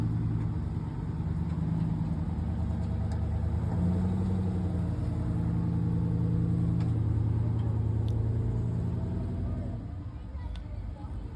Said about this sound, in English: It's extra loud because the muffler fell off.